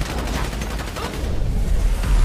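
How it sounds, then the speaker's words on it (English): Video game gunfire in GTA 5 during a heist shootout, loud, dense rapid bursts of shots rattling continuously throughout, with heavy low rumble building toward the end. "So I guess we're shooting our way out of here!"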